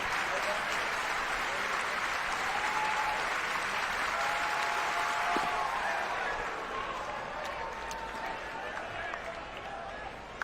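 A college baseball crowd at an NCAA tournament game between TCU and Arkansas applauds and cheers steadily in the stadium, a broad sustained wash of noise that eases slightly near the end, with a commentator talking over it.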